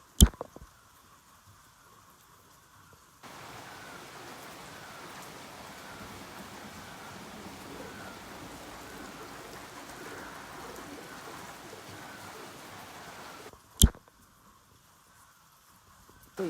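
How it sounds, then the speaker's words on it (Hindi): Rain falls steadily in a dense, even patter for about ten seconds, fairly close and moderately loud, framed by quieter stretches with a couple of sharp knocks at the start and near the end. "यहाँ पे बारिश हो रही है, देखिए।"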